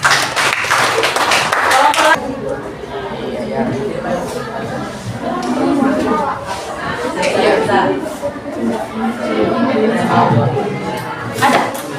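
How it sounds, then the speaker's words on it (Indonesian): A classroom bursts into brief applause for group 5, a loud cluster of clapping at the start that gives way to student chatter and talking. "berikan aplaus untuk kelompok 5"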